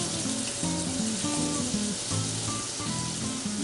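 Minced garlic sizzles steadily in a hot pan during monkfish scampi prep, a dense continuous frying hiss with faint clinks and tonal kitchen noises layered over it, no talking.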